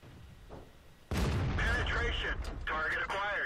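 A single loud cannon blast from an E25 tank destroyer in World of Tanks on the Siegfried Line map, after a quieter background. Game crew voice callouts follow over the rumbling aftermath.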